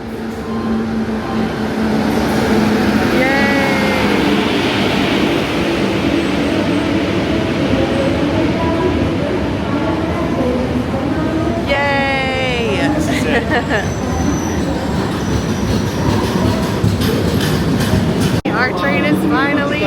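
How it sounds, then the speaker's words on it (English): The Netravati Express pulls into a station in Kerala with a continuous loud rumble and squealing brakes, wheel and track noise surrounded by crowd babble on the platform. "Our train is finally here!"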